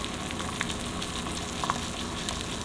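Food fries in a cast iron pan, giving a steady, close sizzle with a few faint crackles and pops and no talking.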